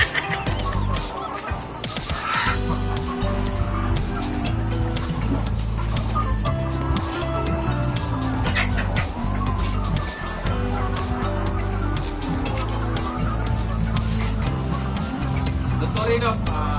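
Chickens cluck and squawk in a backyard layer poultry farm in the province, a dense continuous chorus of fowl with mechanical noise and voices mixed in throughout.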